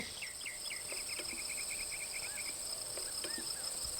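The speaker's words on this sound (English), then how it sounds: "Why, Tarrell, you found some grasshoppers." Insects chirp steadily in a series of short repeated trills, close and continuous over a faint outdoor hiss, with no talking.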